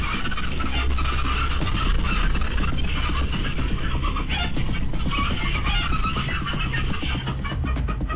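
Chickens cluck and squawk in a crowded chicken farmhouse during a fox attack, a dense, loud, continuous din of agitated fowl with scratching and scuffling throughout.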